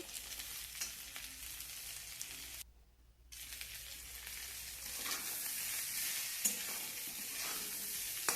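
Spoon stirring curry ingredients with green peas and green chillies in a frying pan, a steady hiss of sizzling oil with scraping strokes, broken by a brief quiet pause before the frying resumes louder.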